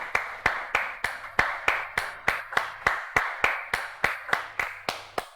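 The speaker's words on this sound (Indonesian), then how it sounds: "Ngikut-ngikut gue tepuk tangan?" Sharp, evenly spaced hand claps, about three per second, close and loud, repeated steadily for several seconds with no one speaking.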